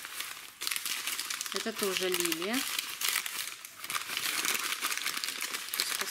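Paper crinkles and rustles steadily while a parcel of plant bulbs packed in peat is unwrapped by hand, close and continuous, with someone speaking briefly over it.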